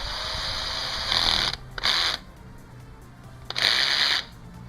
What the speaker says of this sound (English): Quickly try to put some screws through it.